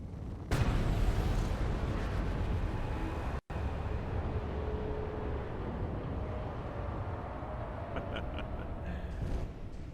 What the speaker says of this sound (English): Oh no, I'm going to crash.